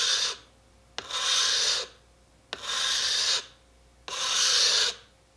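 A steel woodworking chisel is pushed along a sharpening stone in three long, even rasping strokes, each followed by a brief pause. The scrape is close and clear, with no voices.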